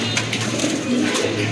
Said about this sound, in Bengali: আরেক জোড়া কবুতর দেখতে পাচ্ছেন